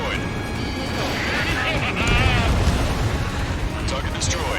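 A rumbling explosion as a target is destroyed in Ace Combat 7: Skies Unknown during the Anchorhead Raid mission, a broad roar swelling mid-clip beneath radio chatter and jet noise.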